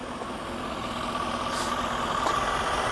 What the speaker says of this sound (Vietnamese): Mình nổ máy cho anh em xem lại ha. Nó êm lắm anh em